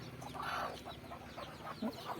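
A small country hen with hatched chicks gives soft, low clucks, with a louder short cluck near the end, close and quiet.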